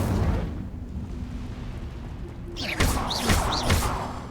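In Hogwarts Legacy, a cast Incendio fire spell lands as a burst of whooshing flame with two or three sharp bright pops over a low rumbling game ambience, following a quieter lead-in.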